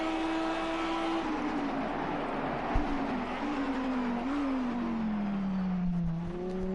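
A Lamborghini race car at Spa drones past, its engine note holding steady and then shifting as it sweeps by, heard from a moderate distance with steady background noise.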